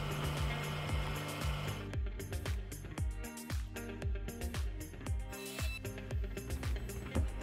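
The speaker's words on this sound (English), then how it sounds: "This CNC router then reveals the holes for our 632 screws." A CNC router cuts a 30cc model engine crankcase sump: a whining spindle, then a series of rhythmic scraping cutting strokes, close and fairly quiet, with no talk.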